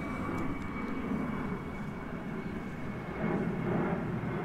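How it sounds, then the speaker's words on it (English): Airplanes taking off near a riverside park at Organ Pipes National Park, a low continuous engine rumble from a distance that holds steady and then grows slightly louder toward the end. "there's a lot of planes taking off every few minutes"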